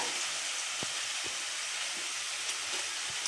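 Chopped tomatoes sizzling in a hot pan for an alur dom curry, a constant soft hiss with a few brief pops and light knocks, close and steady with no talking.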